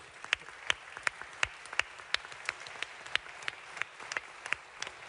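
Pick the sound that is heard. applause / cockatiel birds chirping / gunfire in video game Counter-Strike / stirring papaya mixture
applause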